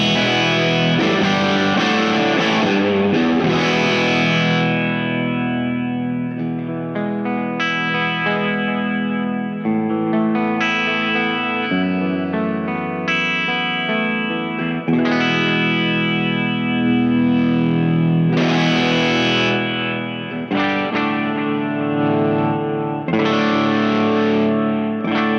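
A headless electric guitar played through a Black Mountain volume pedal set fully up gives loud, sustained, distorted chords with chorus and echo, strummed in steady phrases that ring into one another, with no talking.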